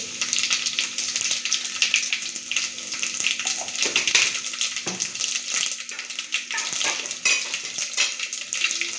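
Garlic, cumin and mustard seeds sizzle and crackle steadily in a hot pan, with occasional clinks of a utensil against the metal, close and continuous for the whole stretch with no talking.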